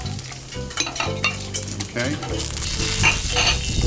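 Broccoli florets go into a pot of boiling water while General Tso's chicken is prepared, bringing steady bubbling, sizzle and utensil clatter close by, with one short spoken word.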